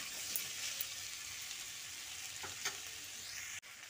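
Tomato and pumpkin stirred in a pan with onion, a steady bright sizzle with a few soft scraping strokes, close and alone without talk.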